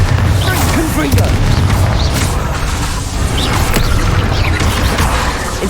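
Bombarda and Confringo spell explosions in Hogwarts Legacy, dense overlapping booms and crashes in a loud, continuous battle din with sharp impacts throughout.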